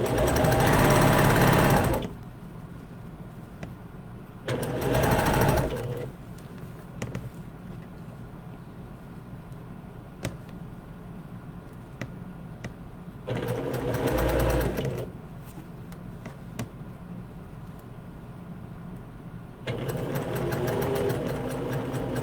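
A sewing machine stitching a shirt sleeve, running in three loud bursts of rapid mechanical whirring separated by quiet pauses with faint handling sounds.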